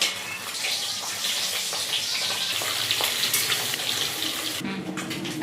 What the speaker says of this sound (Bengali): এভাবে সবগুলো ডিম ভেজে নেব।